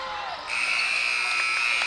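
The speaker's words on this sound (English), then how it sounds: "Tried to be like Amon Anderson with the buzzer beater, but was unable to." A boys' varsity basketball game buzzer sounds to end the first half, a loud, sustained electronic tone cutting in abruptly over gym crowd noise and continuing to the end.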